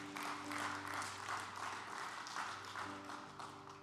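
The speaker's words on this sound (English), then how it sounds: "So yeah, you can applaud for that." Church congregation applauding at a Christmas service, steady dense clapping sustained throughout at moderate level, with a faint hum of sustained tones underneath.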